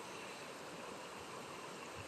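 A river stream flows steadily near a bend in a German river, its broadband rushing and gurgling water close and continuous without a break.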